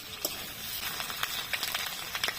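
Pumpkin, potato and ginger paste sizzling in hot oil with dried red chilli tempering, a steady close hiss flecked with small crackles and pops throughout.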